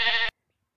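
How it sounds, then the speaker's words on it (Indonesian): A single short, bright bleat of a goat in a children's animal-naming animation, clear and close, cut off abruptly and followed by silence. "Kambing suaranya"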